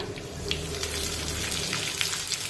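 Garlic and finely chopped green chillies sauté in a pan with a steady, close sizzle and crackle for a few seconds, with no voices heard.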